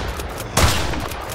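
Gunfire in the survival video game Mist Survival comes as a rapid fusillade of muffled shots in quick succession. One sharper, louder burst lands midway over a steady background rumble.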